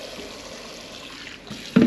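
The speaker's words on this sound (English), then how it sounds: "We're going to fill our pot up with hot water." Hot tap water runs from a faucet into a cooking pot in a kitchen sink, a soft steady trickle and splash for under two seconds, ending in a brief louder clunk.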